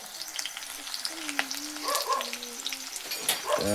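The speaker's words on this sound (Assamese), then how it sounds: "চক গাইজ, পিঁয়াজটো ঢালি দিলোঁ। তেলটো পূৰা গৰম হৈ গৈছে।" Onion poured into fully heated oil, sizzling and crackling steadily up close, with bursts of spattering and faint stirring clatter, no talking.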